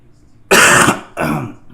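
Two loud, close throat-clearing coughs, the first longer and harsher, the second shorter after a brief pause.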